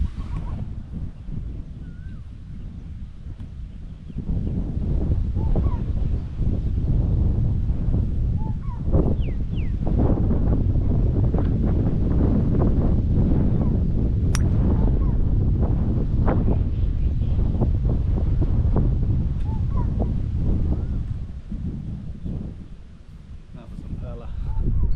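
Steady gusting wind on a golf course at Palm Hills, Hua Hin, roaring as broadband rumble into the microphone throughout, louder in the middle and easing near the end, with faint birds in the background.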